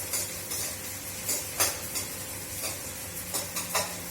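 Edible gum (gond) roasts over low heat in a pan while being stirred, heard as soft, steady frying noise broken by repeated scraping and clinking strokes of a spoon against the pan.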